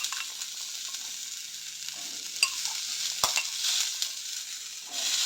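White kabuli chickpeas sizzle in a hot pan for a tempering, a steady broadband crackle with a few sharp clicks and spoon scrapes, close and moderately loud, with no talking.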